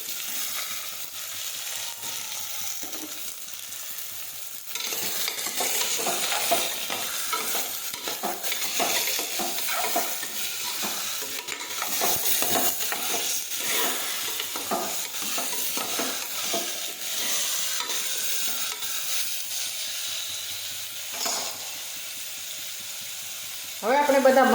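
Bottle gourd curry frying in a pan is stirred with a steady scraping and sizzle that lasts about twenty seconds, close and continuous, with a faint clink at the end.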